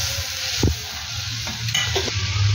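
A little water poured into sizzling fried spice paste for fish curry, a loud steady hiss with a sharp burst and a few clatters of stirring, no voices.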